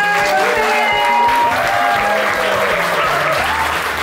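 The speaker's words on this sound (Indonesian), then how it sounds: "itu kami persilakan kalau pengen kasih tepuk tangannya dong ya." Crowd applause at an Onsu family gathering with evening entertainment, steady and loud throughout, with scattered voices mixed into the clapping.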